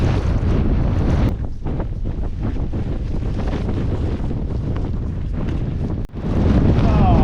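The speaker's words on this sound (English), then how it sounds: "I don't know what these gusts are, but they're a bit windy" Strong wind on Old Winchester Hill buffets the microphone in continuous roaring gusts, with a brief lull before another loud blast.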